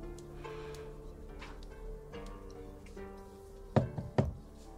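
Three sharp knocks on a door, closely spaced, sounding near and clear over a quiet background carrying faint tonal music.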